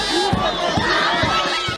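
An enthusiastic crowd of high school students greets the president at a lycée, a steady wash of cheering and chatter with rhythmic thumps underneath, loud and continuous throughout.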